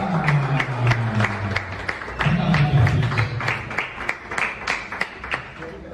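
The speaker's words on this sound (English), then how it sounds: "So a good round of applause for Cynthia." An audience claps for Cynthia, a media professional, at a Nakuru community political gathering; moderate applause with sharp individual claps, under a low voice murmuring in the foreground.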